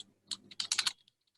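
A brief quick burst of keyboard typing, several crisp key clicks in rapid succession, close and clear against near silence.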